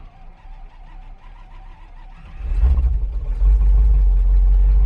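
A Trabant's small engine idles quietly and then revs up loudly as gas is added, settling into a sustained, close, heavy drone.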